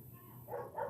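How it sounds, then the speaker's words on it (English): A household dog barks in the background, two short muffled bursts rising over a low steady hum, faint and indoors. "That's our dog's acting up."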